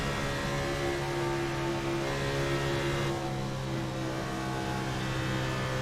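Engines of several NASCAR stock cars in a video game race at Kansas whine steadily and continuously, forming a sustained mid-pitched engine roar with slight rises in revving and no voices.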